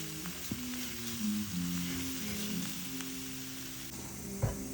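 Chicken sears in a hot skillet for a sesame orange chicken dish, giving a steady soft sizzle with light crackle and a brief stirring clatter near the end.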